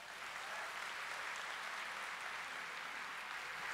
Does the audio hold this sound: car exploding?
no